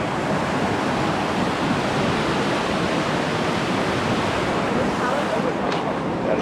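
Steady, loud rushing roar at the top of a waterfall on a busy Yosemite hiking trail, a constant broadband wash that stays even throughout, with no voices heard.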